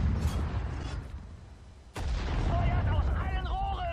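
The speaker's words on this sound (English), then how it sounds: "So this is the most effective use I can think of for artillery fire." Artillery fire in the war strategy game Sudden Strike 4: a dense rumbling battlefield bed with a sharp heavy blast in the middle, followed by continued booming and whining effects under faint voices.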